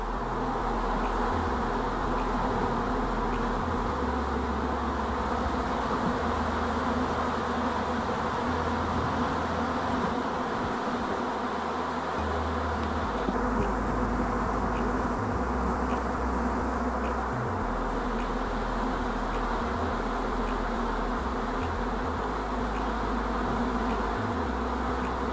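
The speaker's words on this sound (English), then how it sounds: "Old dark bees." Many dark honeybees buzz continuously close by, a dense droning hum that stays steady and fairly quiet throughout.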